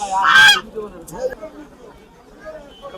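At a poultry market in Keraniganj, Jinjira, a Chinese goose gives one loud, harsh honk up close, followed by a shorter call, with people talking and market babble underneath.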